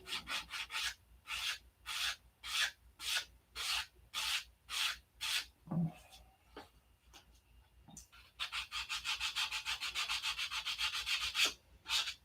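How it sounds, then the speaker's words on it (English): Rhythmic hand sanding on wood, about a dozen steady back-and-forth strokes, then a pause with a few light knocks and a longer continuous rubbing stretch. "When you're sanding these complex shapes, you kind of got to go with the flow."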